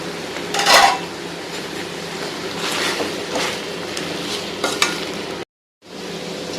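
Chicken coated in masala deep frying in oil, a steady sizzling bubbling bed with a few clinks and stirring scrapes, and a brief gap of silence near the end.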